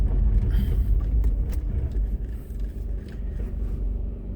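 A car rolls along with a loud low engine and road rumble, steady and close from inside, with faint clicks and rattles scattered over it.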